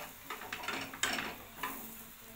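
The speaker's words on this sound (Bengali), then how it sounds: "গ্যাসের ফ্লেমটা একদম আস্তে রেখে পরোটাটাকে লাল লাল করে একদম ভেজে নেব।" A paratha fries in a little oil over a low gas flame, giving a soft, steady sizzle broken by a few brief scraping and clinking touches of a spatula or pan.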